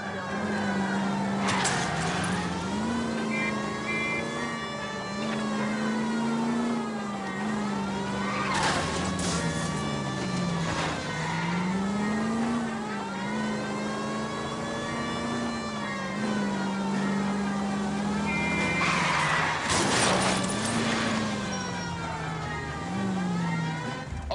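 Car engine droning through a police chase in L.A. Noire, steady and revving with rising and falling pitch across long stretches, occasional sharp bursts of noise layered over the continuous motor.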